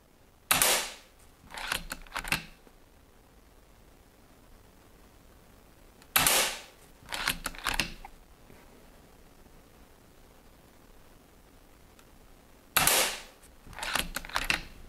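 Three sharp snapping shots from an FX Impact M3 air rifle firing JSB pellets, spaced several seconds apart, each followed by a quick run of metallic cocking clicks from the short lever, close and otherwise quiet.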